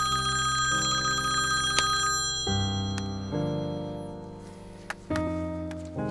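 A phone's melodic electronic ringtone plays in a home, a series of clear stepped tones with a bright chime partway through, close and alone with no talking.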